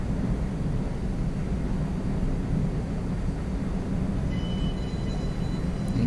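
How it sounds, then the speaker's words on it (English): A train rolls out of an upper spiral tunnel on a mountain railway with a constant low, droning rumble that holds steady and fairly loud throughout, with no speech. "The end of the train should be coming soon. Out of the tunnel"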